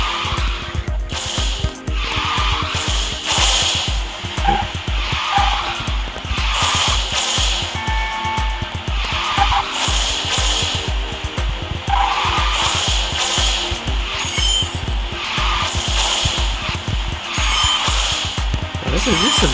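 Race cars in the QQ Speed Mobile racing game drift and skid repeatedly, tire squeals rising over a loud, steady engine roar with a rhythmic pulse throughout, while music or effects play underneath.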